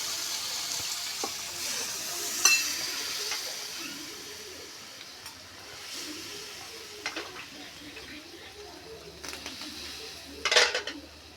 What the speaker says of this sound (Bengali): এখন আমি সিদ্ধ করার জন্য পানি দিয়ে দেবো